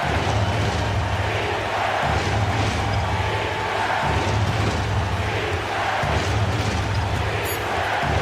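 Video game basketball crowd cheering, a dense, loud, steady roar with rhythmic thumps underneath, holding tension throughout.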